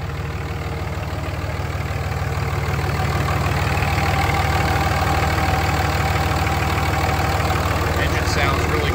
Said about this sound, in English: Engine sounds really good.